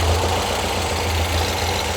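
A 1970 VW Beetle with a 1776cc engine and dual 40 IDF carburetors idles at about 500 rpm, a steady, loud low rumble with an even chugging pulse and no talk over it.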